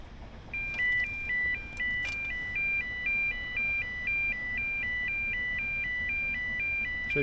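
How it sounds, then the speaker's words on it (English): Railway level crossing alarm sounds outdoors with a steam train nearby, a steady two-tone electronic warble repeating rhythmically at moderate volume over faint background rumble. "We'll get the crossing alarms in a minute."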